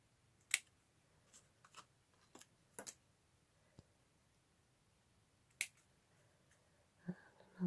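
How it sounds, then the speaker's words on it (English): Scissors snip through paper while cutting out die-cut cat and pumpkin lantern pieces, a few sharp, quiet clicks spaced irregularly over near silence. "Another snip."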